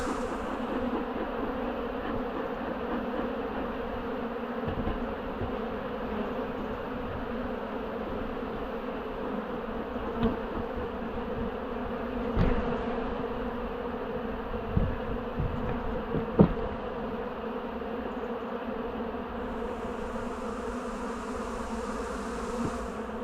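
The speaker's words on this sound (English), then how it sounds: "So the bees are going to start heading back home now." Honey bees buzz around an opened hive during a split for swarm prevention, with a dense, continuous hum throughout, close and steady, plus a few brief knocks and thumps and no voices.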